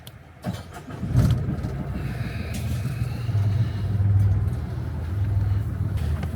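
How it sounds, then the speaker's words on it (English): A sailing boat's motor starting up and settling into a steady low rumbling idle, close and continuous with a slight rise and fall. "Just turn the motor on."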